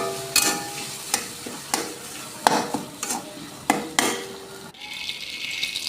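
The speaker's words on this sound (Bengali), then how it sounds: "নাড়াচাড়া করে ভালো করে নাড়াচাড়া করে তারপর ওটা নামিয়ে নেব।" Potato filling for aloo paratha is stirred in a hot pan with garam masala. A spatula scrapes and taps at a steady rhythm of about one stroke per second over a light sizzle.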